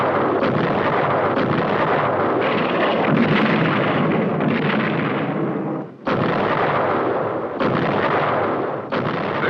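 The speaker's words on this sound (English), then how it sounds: "This is naval gunfire support, a mobile source of big gun reinforcement for friendly troops ashore" Naval ship big guns fire in support of troops ashore off Vietnam in 1967, heavy booming blasts rolling into one another as a dense, loud rumble with a short break midway before the salvo resumes.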